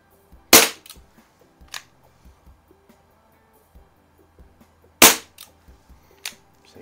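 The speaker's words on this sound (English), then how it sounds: "I'll shoot half the magazine at the target" Umarex Brodax .44 CO2 revolver firing BBs at a paper target, two sharp loud pops about four seconds apart, with faint clicks and handling noise between shots and no talking.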